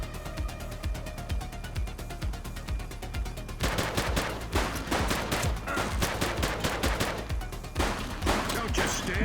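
Sustained gunfire in The Precinct, with dense rapid bursts of automatic shots, loud and close, running continuously, and a brief voice line heard under the shooting.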